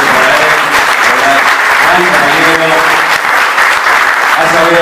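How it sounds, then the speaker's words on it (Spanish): Loud, sustained applause from a large crowd, dense clapping filling the whole stretch with a steady roar and faint voices mixed in. "Un gran aplauso para él."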